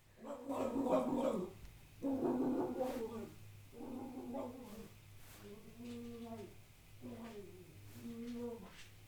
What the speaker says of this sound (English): He just always has this roar, roar, roar, roar build up before he like actually starts barking.